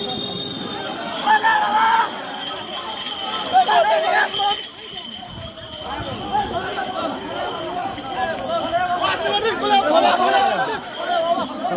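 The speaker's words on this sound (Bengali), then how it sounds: "ভিড়টা কিন্তু অসাধারণ ভিড় রয়েছে একদম" A crowd of pilgrims at the Tarakeswar pilgrimage in 2024, on the way toward the ghat, fills the air with steady, dense chatter and babble that holds throughout, with a few louder swells of nearby voices.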